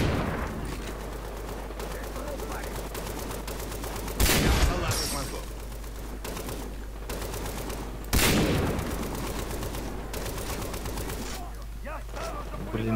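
Machine-gun fire in the shooter game Far Cry 3 multiplayer: sustained rapid bursts with two sharper, louder volleys near the middle, under a dense, busy game soundscape, with occasional voices talking over it.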